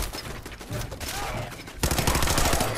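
Laser gun firing in the Fallout 4 video game amid close combat, dense rapid bursts of crackling shots that grow louder partway through, with a voice talking underneath.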